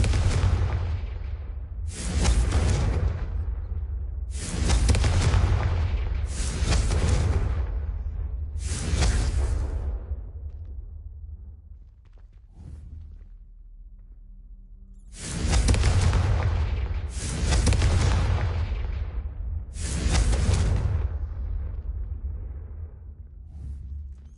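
Confringo fire spells from Hogwarts Legacy, cast to light three braziers, burst out as loud whooshing blasts, about six in two quick clusters with a short lull between, and no voices.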